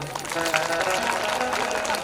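Audience clapping at a Hindu religious katha gathering, a steady dense patter of many hands spread across the hall, with a faint musical tone and some voices underneath.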